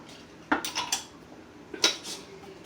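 A utensil stirs curry-seasoned food in a pot, two short bursts of metallic clinks and scrapes against the pot, close and fairly loud with quiet pauses between.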